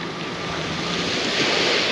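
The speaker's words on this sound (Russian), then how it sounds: "Море, в принципе, спокойное, нормальное, красивое." Calm sea surf washes onto a summer beach at Lazarevskoye near Sochi, a steady broad rush of water with a light breeze across the microphone, no voices.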